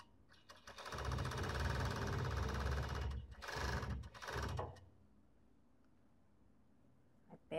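A sewing machine runs at close range, stitching the sleeve of a long-sleeved robe in a dense, rapid mechanical whir, pausing briefly, then two shorter bursts before quiet handling noise.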